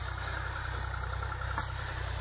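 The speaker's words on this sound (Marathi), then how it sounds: "ट्रॅक्टरने नांगर वावरणीचं काम चालू आहे." A tractor ploughing farmland on level ground gives off a steady, unbroken mid-distance engine drone, its low, even pulsing holding throughout except for one brief sharp knock near the end.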